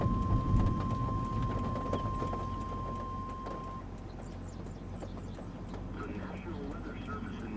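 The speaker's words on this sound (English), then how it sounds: "See, the rain is behind us." Heavy rain pours steadily during tornado chase footage, a dense hiss with deep low rumbling like thunder beneath it and a brief steady electronic tone early on, strongest at the start and easing slightly.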